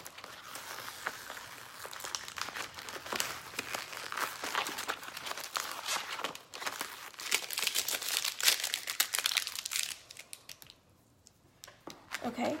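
Stencil vinyl being weeded after cutting, with near, continuous crinkling and peeling rustles that stop abruptly near the end, leaving quiet.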